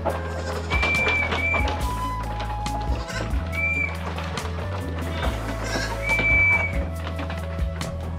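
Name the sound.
whistle calling goats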